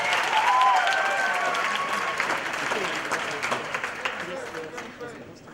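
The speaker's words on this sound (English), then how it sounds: "Can we give a hand of applause," An audience at a language training college graduation ceremony claps, the applause loud at first and then thinning out gradually, with a voice speaking over it.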